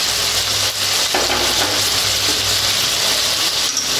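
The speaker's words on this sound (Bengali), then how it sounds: "এখন এই চিকেনটাকে ভালো করে কষাতে হবে" Marinated chicken with sugar sizzles and fries loudly in a pan, a steady dense hiss filling the whole stretch with faint stirring scrapes underneath.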